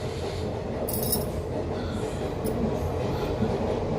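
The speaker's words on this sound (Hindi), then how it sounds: "अभी ट्रेन जा रहा है" Train rumbling past nearby in a continuous, steady roar with broadband noise and occasional higher squeal or hiss accents, no voices over it.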